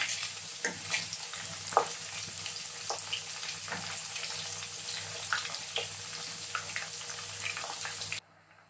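Beef frying in a pan for Nigerian jollof rice, a steady soft sizzle with scattered pops and crackles, faint and close, with occasional stirring scrapes and no talk, ending in sudden silence.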